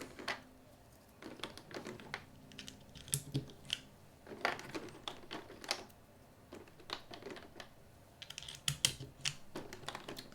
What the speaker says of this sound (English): people watching me put keycaps on and off